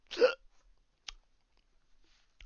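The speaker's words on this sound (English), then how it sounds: "Me with the hiccups." A single sharp, close hiccup bursts out at the start, followed by a couple of faint clicks and small breathy noises in an otherwise quiet room.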